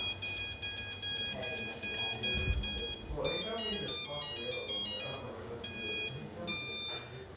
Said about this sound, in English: Then you'll plug your battery in and you'll hear a series of beeps